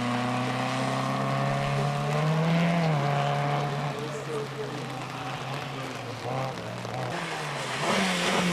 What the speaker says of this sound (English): Handbrake turn there in his Nova